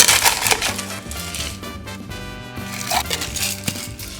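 Ice added to a cocktail shaker while mixing a McRib-paired drink: a dense clatter and crunch of cubes tumbling into the tin, loud and close, lasting several seconds with no talk.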